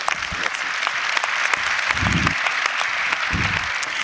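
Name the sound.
audience applause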